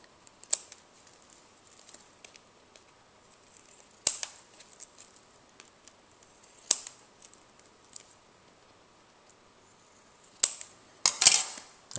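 Scissors snipping the corners off a homemade lighting gel, a few sharp, crisp clicks and snips spaced apart in a quiet room, ending in a quick cluster of cuts.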